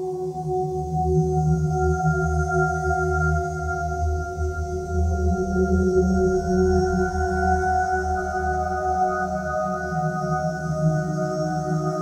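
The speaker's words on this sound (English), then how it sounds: "I had recorded these bells with a random arpeggiation and put it in the stretch engine." FM bell arpeggio recorded on a synth and time-stretched from 30 seconds to one hour, now a smooth, sustained drone of layered steady tones with a soft shimmering wash, continuous and even throughout.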